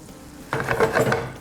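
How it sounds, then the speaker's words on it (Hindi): Spatula stirring garlic and onion frying in a pan, a sudden scrape then a steady sizzle with soft clinks of metal, close and fairly loud, no voices. "अब हम जस्ट गोना टेक स्पैचुला, इसको हल्का सा मिक्स कर लेते हैं"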